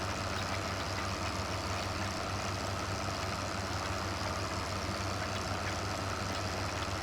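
A JCB Fastrac tractor idling in Farming Simulator 2015, a steady low engine drone with an even throb that holds unchanged throughout, alone with no talk.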